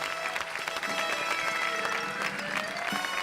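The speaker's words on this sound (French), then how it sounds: "Je vous demande d'applaudir très fort, vraiment," A ceremony audience applauds a prize honoree, Héloïse Rodeau, with steady, dense clapping sustained throughout at moderate volume, slightly distant, with a faint voice or two mixed in.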